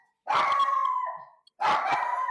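A dog gives two loud, drawn-out barking howls close by, each a sustained tonal yowl of about a second, separated by a short pause.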